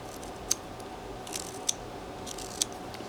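Light knife cuts into a wooden relief carving of a wedding scene: three brief, crisp snicks spaced about a second apart, quiet and close over a faint background hiss.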